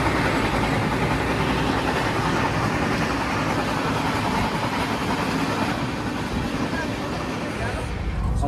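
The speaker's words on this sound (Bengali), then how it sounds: "আমাদের ট্রেন ছাড়লো, সাঁতরাগাছি ক্রস করলো" A passenger train from Shalimar toward Puri, running near Santragachi, heard from on board as a constant loud rumbling roar of wheels and carriage noise with no clear breaks.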